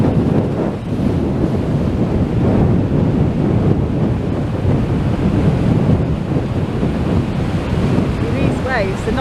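Rough sea waves crash and surge at Blackpool at high tide, a loud, continuous roar of surf with heavy wind buffeting the microphone and no clear voices.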